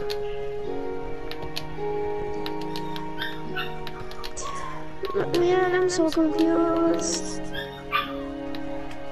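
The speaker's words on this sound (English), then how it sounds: "Your doggy is barking." A dog barks and yips in quick repeated bursts, fairly close, mixed with game sound effects and music from a Minecraft parkour session while a young person talks over it.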